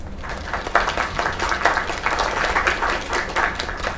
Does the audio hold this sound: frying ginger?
no